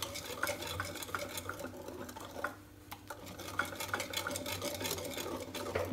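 Basbousa batter being mixed in a bowl, heard as a quiet, continuous rhythmic stirring and scraping with faint clinks of utensil on the bowl and a brief pause midway.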